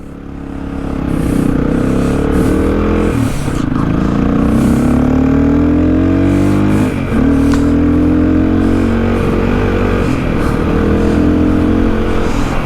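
Hero XPulse 230 motorcycle engine running loud and close, with steady revving and shifting pitch as it rides off on a mountain road, alongside another engine's drone.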